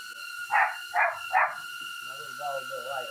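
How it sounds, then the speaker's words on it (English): A small dog barks three times in quick succession, sharp and fairly close, at a flying drone, followed by a soft whine or voice-like sound and steady background hum. "so the dog barking isn't so loud"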